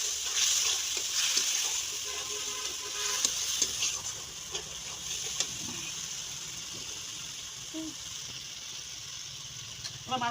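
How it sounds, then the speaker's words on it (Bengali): Spice paste with ground spices and a splash of water sizzling and frying in a pan while being stirred, a steady crackling hiss throughout with occasional scrapes of the spoon, close and moderately loud, with no talking. "মশলাটা এবারে কষে নেবো।"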